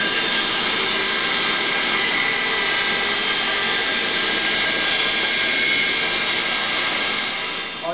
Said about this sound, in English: to rip a couple strips that I can then book match lengthwise to go all the way around